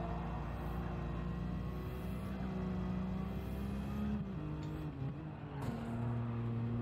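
Highly tuned engine of a Japanese rally car in Gran Turismo 7 holds a loud, sustained rev, then drops and climbs through quick gear shifts toward the end, with no voices.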